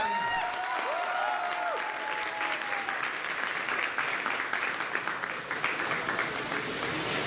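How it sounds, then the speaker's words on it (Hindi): Theatre festival audience in Tikamgarh breaking into strong applause, dense rapid clapping from a full hall lasting several seconds, with a brief trailing voice from a nearby speaker at the start. "जोरदार तालियां।"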